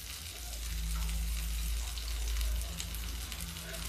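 Mung dal pakoras with cumin fry in a small amount of oil, giving a loud, continuous close-up sizzle with a low rumbling bubbling underneath; no voices.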